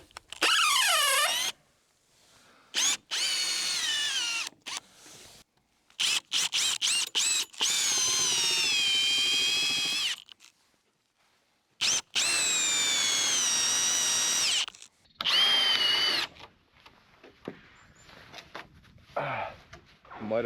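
Power drill backing screws out of a wooden roof truss board, repeated loud whining bursts that rise and fall in pitch, some squealing, separated by short pauses, close up.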